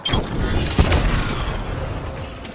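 Sustained gunfire in Apex Legends, a loud dense burst of shots with a heavy boom near the start, continuing as a steady roar of fire.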